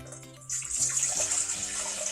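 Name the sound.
pouring apple juice into a bowl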